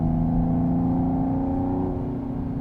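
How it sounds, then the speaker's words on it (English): A 2024 Mercedes-AMG GT 43's exhaust burbles and drones loudly from inside the car while driving, a steady low engine tone with rippling pops and no talk. "Hopefully you can pick up those burbles too. This is a really nice sounding exhaust."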